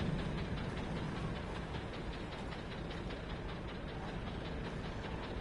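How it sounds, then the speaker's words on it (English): Trike dinosaur in the video game Ark giving off a mechanical engine-like rumble, steady, faint and continuous with a faint rhythmic clatter, no talking. "The trike actually makes engine noises."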